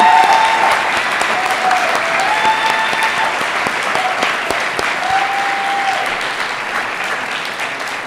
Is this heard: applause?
yes